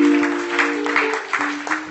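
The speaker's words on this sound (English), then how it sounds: "Let somebody clap for the Almighty God." A church congregation applauds steadily and fairly loudly, a dense broadband patter with a low sustained instrument tone held underneath throughout.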